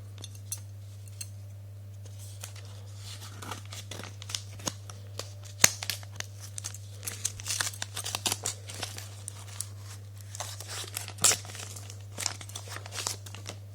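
A pack of Borussia football trading cards is torn open, with soft crinkling and tearing of the wrapper in scattered bursts over a steady low hum and no voices.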